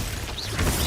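Glacius freezing spell cast in the Hogwarts Legacy video game, heard as a short, bright crackling burst with a sweeping shimmer, followed by a louder icy shatter near the end.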